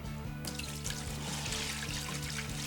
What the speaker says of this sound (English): So what we're going to do is just pour our sanitizer in the top.